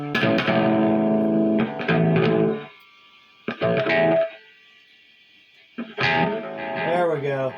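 An electric guitar plays through a modeling amp with delay, sounding loud, distorted chords in several bursts whose repeats fade away during the gaps between them.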